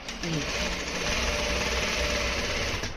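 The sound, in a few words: sewing machine stitching ladies' pant pocket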